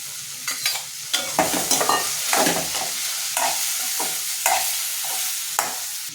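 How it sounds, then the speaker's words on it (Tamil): Okra is stirred and sautéed in a pan with softened tomato and onion for a wedding-style okra pachadi, a steady sizzle with repeated scraping strokes of the spoon, close and loud. "வெண்டைக்காயை போட்டு ஒரு 2 நிமிஷம் கிண்டிக்குவோம்"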